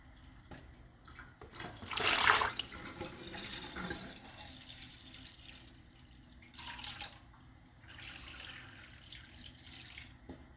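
Water runs from a tap fed by a home well into a kitchen vessel while sourdough bread is being made, coming in short, moderately quiet bursts separated by softer pauses.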